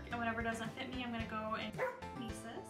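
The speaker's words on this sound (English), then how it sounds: "That was my dog barking." A dog barks in a quick run of yips and bow-wows, close and fairly loud, woven under and between a person talking.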